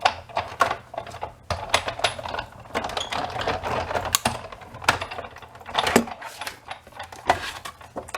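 A Big Shot die-cutting machine for paper crafts cranks paper through its rollers, producing a steady run of close, dense clicking and rattling taps with no talking.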